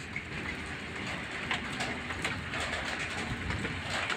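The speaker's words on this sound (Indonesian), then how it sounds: "Ini detik-detik hujan gede lur, letok suaranya enak lur." Heavy rain pours down steadily at a roadside bend, a dense continuous hiss with scattered drops pattering close by, unbroken and without voices.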